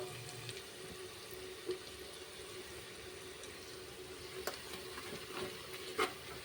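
Garlic and turmeric fry in a pan with a soft, steady sizzle and crackle, broken by a few faint clicks and taps from the pan or utensil.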